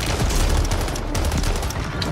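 Pistol gunfire in the shooter game Warzone, a rapid run of sharp, loud shots crackling close by in a dense fusillade with no pause.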